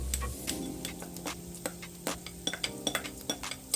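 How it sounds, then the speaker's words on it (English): Chopped peppers added to potatoes in a pan, with scattered light clinks and ticks of utensils against cookware, some quick and clustered, close and moderately quiet. "So now I'm adding in the peppers."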